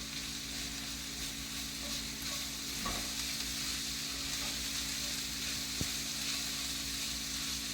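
Rosemary and vegetables sizzle in a pan, a low, even hiss of frying that holds steady with a faint pop or two and no voices.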